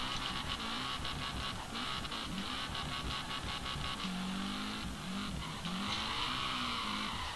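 A drifting car in the Peak Angle racing game skids and spins out, with sustained squealing tires over a steady engine whine and sweeping pitch bends as the car slides, loud and continuous with no voices.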